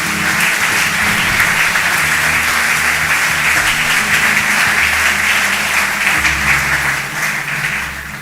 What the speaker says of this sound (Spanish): Dale un aplauso a nuestro Rey